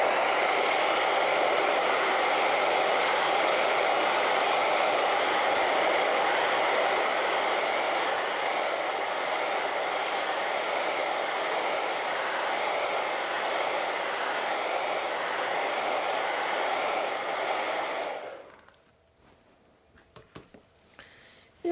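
A hair dryer blows steadily on a freshly painted canvas for about eighteen seconds, a loud, even broadband whoosh that cuts off abruptly, leaving near silence.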